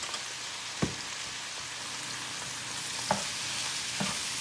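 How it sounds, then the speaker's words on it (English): Steak fajita meat with smoked paprika and other spices sizzles steadily in a frying pan, with a few soft scrapes as it is stirred at about 0.8, 3.1 and 4 seconds. "And you're just going to stir that around until it all comes together."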